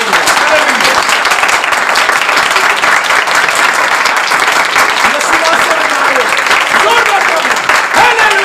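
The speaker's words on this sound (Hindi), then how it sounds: "यीशु जलाल के ताली बजानी जोरदार।" A congregation at a church service claps hard and continuously in a loud, dense wash. Voices are mixed in throughout.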